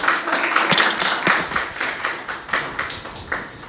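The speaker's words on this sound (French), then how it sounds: "On applaudit encore pour vous." Live audience applauding a singer during a broadcast performance, a steady burst of clapping that tapers off, loud and close with no voices over it.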